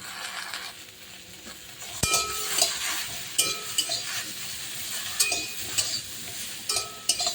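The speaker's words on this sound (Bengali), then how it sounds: "এবার একটু নেড়ে চেড়ে আমি জল দিয়ে দেবো" Okra cooks in a pan with turmeric and salt, stirred with a spatula. Frequent scraping strokes and light metallic clinks sound over a continuous close sizzle.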